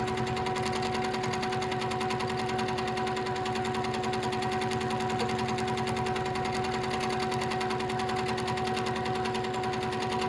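A sewing machine runs steadily and loudly throughout while free-motion quilting serpentine lines, giving a fast, even mechanical stitching rhythm with no pauses.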